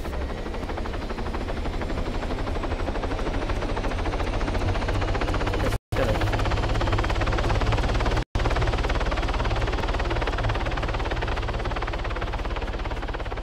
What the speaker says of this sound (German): da oben auf 90 Grad ist gerade ein Helikopter gelandet.